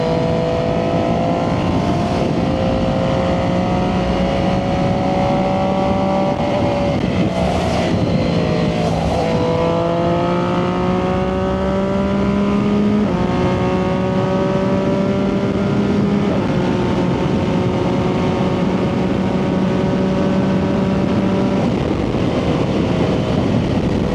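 A Triumph 675SS motorcycle with a full IXIL exhaust runs at speed, its loud engine note climbing through the gears with repeated pitch rises and short drops at each shift, accompanied by heavy constant wind roar.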